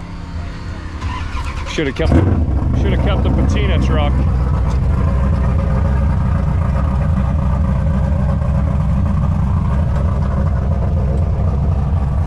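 Drag car engine and exhaust at a dragstrip test day: a sudden loud roar builds into a sustained, rumbling, heavily revving drone, with people talking close by at the start.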